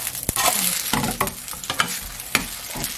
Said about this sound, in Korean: 반쪽이 마저 또 익을 때까지 기다렸다가 뒤집어 주겠습니다.